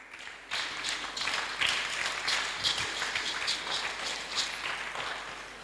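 A church congregation bursts into sustained applause, a dense, even wash of many hands clapping that runs steadily for several seconds with faint voices mixed in.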